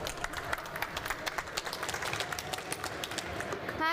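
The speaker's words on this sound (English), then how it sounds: "a warm round of applause for Sharon" An audience at a talk on creating useful web content claps for the next speaker, with crisp individual claps in a lively, even round that fades as a voice begins at the very end.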